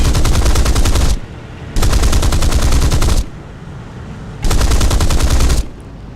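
Bursts of aircraft machine gun fire in the video game War Thunder, three long, loud, dense rattling volleys separated by brief gaps of quieter engine drone.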